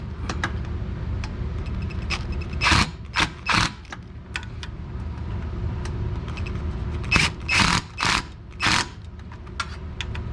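Bolts being tightened on a Yard Machines MTD 8HP Tecumseh Snow King 24-inch dual-stage snow blower, a series of short ratcheting bursts and metallic clicks, clustered in two groups against a low background hum.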